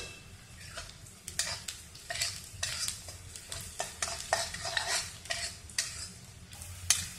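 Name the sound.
onions frying until reddish brown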